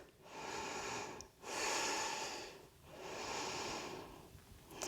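Deep, slow yoga breaths come in three long, airy cycles, each a close, breathy rush followed by a short pause, with no talking.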